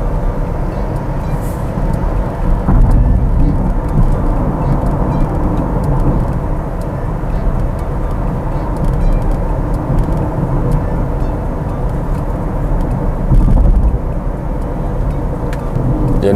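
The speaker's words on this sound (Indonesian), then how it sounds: "sekarang saya akan ngebut sedikit ya. Kita tarik sampai di 60 km." A Wuling Binguo car accelerates to 60 km/h, heard from inside the cabin as a loud, steady low road-and-motor drone with broadband rumble that swells slightly partway through. No voices.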